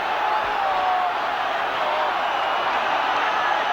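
A football crowd roars at Molineux stadium during the 1971/72 UEFA Cup Final between Wolves and Spurs, a steady, loud wash of massed voices filling the whole stretch.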